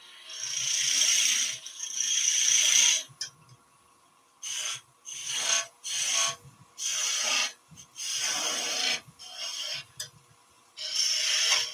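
Skew chisel cleaning up a wooden piece spinning on a lathe, a rough scraping hiss in repeated bursts of a second or two with short pauses between, close and fairly loud, with no talking.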